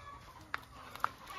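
Free-range chickens on an organic family farm, two short clucks at middling distance over faint outdoor background noise.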